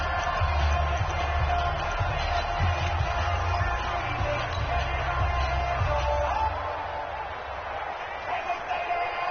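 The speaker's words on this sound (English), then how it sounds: "The crowd getting into it as we come up on a big 3rd down" A stadium crowd in Madden Ultimate Team roars steadily, building ahead of a big third-down football play, a broad continuous rumble running beneath near-constant commentary before easing slightly.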